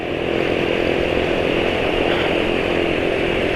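A small four-stroke motorcycle engine running on Petronas Sprinta 4T 10W40 synthetic-blend oil gives a steady, close buzzing drone at a constant speed, alone and unbroken.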